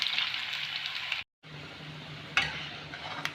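Potatoes dropped into hot oil set off a steady bright sizzle that continues close and loud, cut by a short silent gap before resuming with a few sharp crackles.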